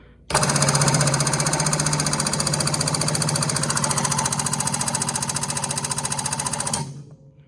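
An Atlas RJ-6000 air/hydraulic bridge jack pumps with a rapid, machine-gun-like pneumatic chatter, loud and steady for several seconds, then stops abruptly.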